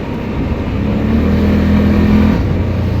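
Engine of a Honda Rincon 650 ATV pulling hard as it accelerates on a test drive, a loud steady drone with rising engine pitch held for a few seconds, close by and with no speech.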